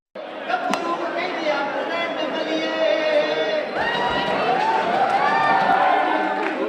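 A large crowd mills about at a college Festival of Lights on a campus, a dense indoor chatter of many voices with occasional shouts and cheers, close and continuous throughout.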